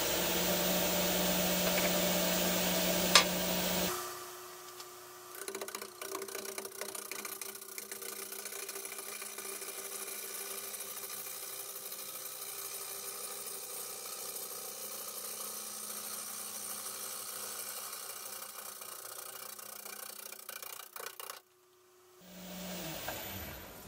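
A wood lathe spinning a bowl blank gives a steady mechanical drone with a faint tonal whine, held nearly constant for about seventeen seconds. It starts after a louder opening stretch and ends with a short drop, then the noise rises again.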